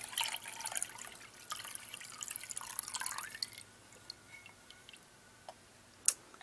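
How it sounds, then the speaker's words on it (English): Gamsol solvent being stirred into a beeswax and resin medium, soft wet dripping and squishing sounds, busier at first, then quieter with a sharp clink near the end. "I'm going to stir it in, mix it up well"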